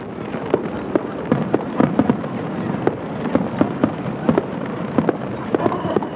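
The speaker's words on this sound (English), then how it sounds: "the festival climaxes with fireworks on the Shinano River" Festival fireworks over the Shinano River in Niigata, Japan, burst in a steady series of sharp pops and bangs over a continuous rumbling crowd-like background, heard from some distance.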